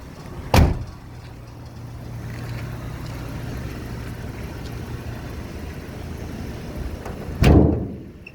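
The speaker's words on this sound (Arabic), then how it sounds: "افتح لي كبوتها" A car's hood is worked at a Saudi Friday car market, with two sharp, close metallic clunks near the start and end and a low, steady hum between them.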